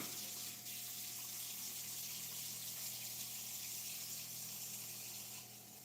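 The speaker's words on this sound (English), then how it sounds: "I gotta wash my hands" Water runs steadily from a tap for hand washing, a continuous, even hiss of flow at moderate distance with no voices over it.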